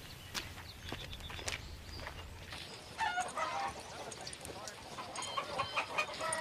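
Hens cluck and chatter in short, scattered calls over a steady rustling background, with a brief louder flurry partway through.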